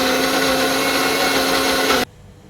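An electric mixer grinder whirs loudly and steadily as it grinds coriander, coconut, cumin and pepper, then cuts off abruptly, leaving quiet room tone.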